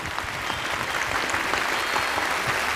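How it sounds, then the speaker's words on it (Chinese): Studio audience applause on a Chinese televised job-seeking show, a steady wash of many hands clapping at even strength from start to finish. "让我们一起用掌声鼓励一下他"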